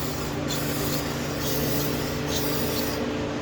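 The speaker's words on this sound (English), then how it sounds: "We're going to spray this down with some brake cleaner" Steady, continuous hissing spray from an aerosol can of brake cleaner on a 2017 Toyota RAV4, close and loud, with no talking.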